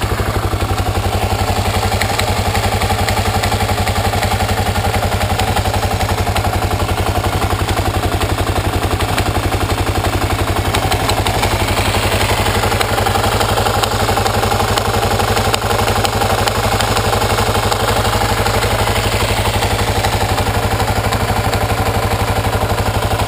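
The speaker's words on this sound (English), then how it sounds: "Start the engine, and hopefully we can hear something." Kawasaki KLR motorcycle engine idling steadily and loudly up close, a constant low drone with a faint rapid ticking clatter running through it for the whole stretch, no voices.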